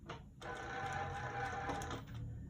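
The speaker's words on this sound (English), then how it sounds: "start at the very edge of the fabric, and just do your couple stitches forward" A sewing machine runs steadily through fabric for a few seconds, starting and finishing a straight seam with a brief pause near the start, at close range with no talking.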